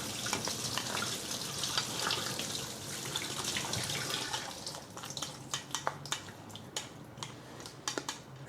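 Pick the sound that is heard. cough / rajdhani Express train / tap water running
tap water running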